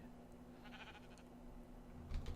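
A pink sheep in the Minecraft video game bleats once, a faint, short wavering call over a quiet low background hum, with a louder thump near the end.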